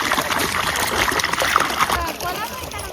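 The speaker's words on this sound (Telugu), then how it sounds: "ఇక్కడ వాటర్ వస్తుంది" Water flows and splashes steadily beside village farm fields, a continuous close wash of trickling and sloshing under people talking throughout.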